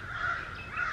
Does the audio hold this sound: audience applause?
no